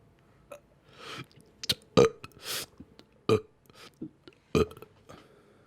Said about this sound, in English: I can burp on command like a fucking weirdo.